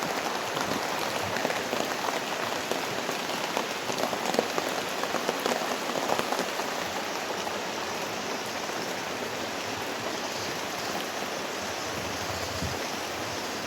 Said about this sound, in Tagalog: Papalakas na palakas ng ulan mga lods eh.